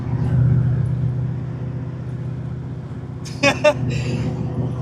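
Car with a swapped, supercharged Coyote V8 on a hard 60-to-130 pull: a deep, steady engine roar up close, with a couple of sharp bursts of louder noise near the end.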